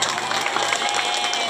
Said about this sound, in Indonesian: Tepuk tangan buat nenek